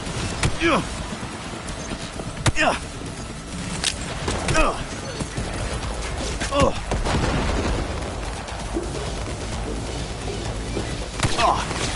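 Gunfire and a grenade blast in the video game Cyberpunk 2077, with sharp shots and booms landing every couple of seconds over a constant rumbling background, while voices talk over the fight.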